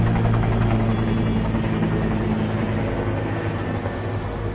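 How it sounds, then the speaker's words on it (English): A helicopter drones overhead with a steady, loud rotor thrum and engine hum that holds throughout, slowly fading a little toward the end. "Oh, you see, there's a helicopter."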